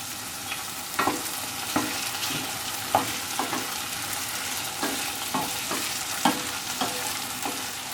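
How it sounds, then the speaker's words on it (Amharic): Rice with peas, beans and carrots sizzles in a pot while a spoon stirs it, soft scraping strokes every second or so over a steady quiet frying hiss, close up and without talk. "እያማሰልኩ እኔ እቆያለሁ ማለት ነው።"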